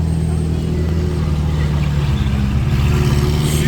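Ferrari 488 Pista supercar pulling out on the streets of Monaco, a loud, steady engine drone filling the whole stretch, with crowd noise and voices mixed in.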